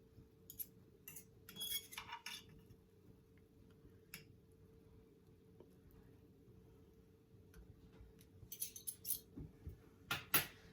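A utensil clinks and scrapes in a pan while pork steak and potatoes are flipped, leaving soft, scattered metallic taps and knocks over a low steady hum.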